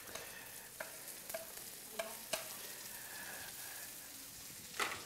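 Potatoes frying in a pan in a kitchen give a steady, fairly quiet sizzle, broken by a few sharp clicks of stirring.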